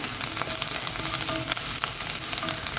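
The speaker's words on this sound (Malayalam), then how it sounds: "നന്നായി ഇളക്കി കൊടുക്കാം" Ladies finger (okra) curry sizzles and fries steadily in a pan while being stirred, the constant close hiss broken by scraping stirring strokes.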